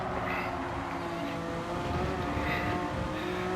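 A race car engine drones loudly at close range with shifting tonal bands as it changes gear, the pitch stepping and revving under continuous road and wind noise.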